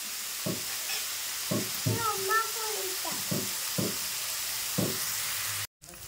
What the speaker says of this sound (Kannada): ನೋಡ್ರಿ ಉಳ್ಳಾಗಡ್ಡಿ ಒಂದು ಸ್ವಲ್ಪ ಫ್ರೈ ಅದು